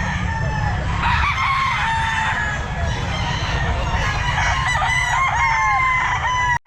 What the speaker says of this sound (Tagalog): Manok niya mga sir